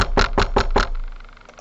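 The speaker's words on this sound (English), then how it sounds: "the bus driver keeps on knocking" Four sharp, evenly spaced knocks, loud and close, followed by a fading room tail and quiet background.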